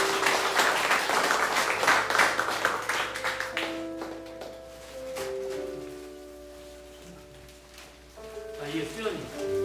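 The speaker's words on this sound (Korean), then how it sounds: "신혁이한테 우리 박수 한번 보내주시고" A church congregation at a Sunday worship service claps for a few seconds, a lively burst of applause that fades as a voice and soft sustained music take over.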